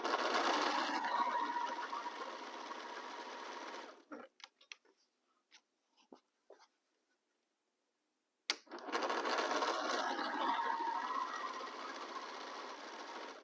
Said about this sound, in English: Now it's time to sew.